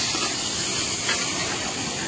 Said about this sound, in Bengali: বরবটি ভাজা চলছে।